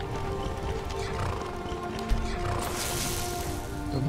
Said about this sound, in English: Oh, horse is coming in here as well